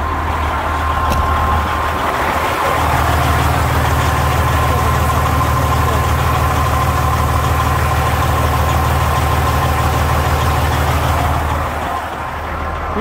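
A Detroit diesel engine idling through its exhaust muffler, a loud, steady low rumble with an even mechanical hum that holds unbroken for the whole stretch.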